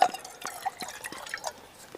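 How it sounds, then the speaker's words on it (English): Water trickles and drips into a camping kettle at a wild camp, a faint, close run of small splashes and plinks over about two seconds. "So I'll fill the kettle up right to the top."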